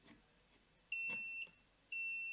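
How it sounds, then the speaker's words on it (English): An old digital multimeter emits a high, pure warning tone in two steady beeps, each about half a second long, clear over a quiet background. "hear this beep"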